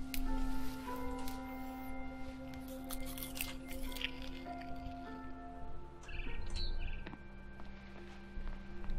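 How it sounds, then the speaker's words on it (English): A barn swallow in the video game What Remains of Edith Finch chirps and tweets over a steady background hum, with a few brief crunchy, squishy noises mixed in. "Then I heard chirping outside my window."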